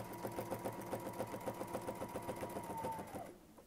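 A sewing machine stitches a quilt border in a rapid, even run of mechanical thumps, close and clear, before slowing and stopping just before the end.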